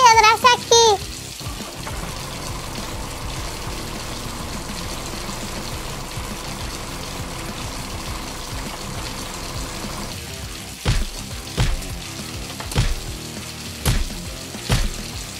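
Rushing water in a toy car cartoon streams steadily as a continuous wash, with a few sharp splashy hits near the end and a brief voice at the start.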